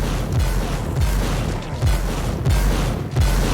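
Weapon fire from the warp fire gun in Warhammer 40,000: Inquisitor, a run of five heavy low booming blasts at roughly even spacing over a dense, rumbling game soundscape, with no talking.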